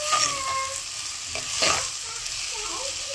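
Onions saute in a pan for a prawn gravy, giving a steady close sizzle with occasional stirring scrapes and a few faint background tones.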